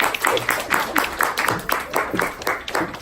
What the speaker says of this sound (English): So if we can give a round of applause for Charlie Driscoll.